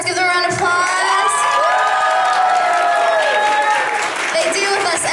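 A school theater audience gives loud applause and cheering for the production's sponsors, with dense clapping, whoops and high children's shouts, and voices singing or calling out sustained tones over the crowd throughout.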